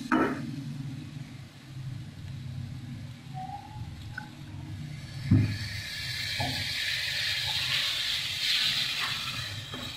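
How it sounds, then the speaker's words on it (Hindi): A hissing sizzle rises as water hits hot spices in a pan for a mixed vegetable curry, a steady steamy crackle that swells midway and continues, close by. "थोड़ा सा इसमें पानी डालते हैं"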